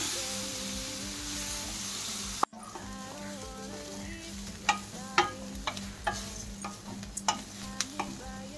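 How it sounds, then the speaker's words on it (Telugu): Grated carrot fries in a pan as it is stirred continuously, with a soft, even sizzle under a series of sharp spatula taps and scrapes against the pan. "అడుగంటకుండా ఇలా 2-3 నిమిషాలు కలుపుతూనే ఉండాలి. క్యారెట్కు ఉన్న తేమతోటి ఫ్రై"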